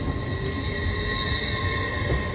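LNER Class 802 unit 802304 pulling into Doncaster station: a loud, steady rumble with sustained high electrical whines over it, continuous from start to end.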